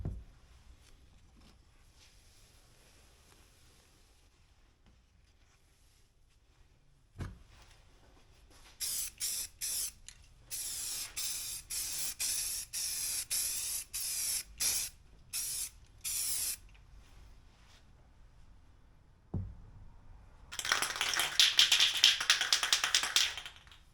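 Flat black spray paint applied as a final coat in repeated bursts of loud hissing, each lasting a second or so, with a longer continuous spray near the end, close by and without talk.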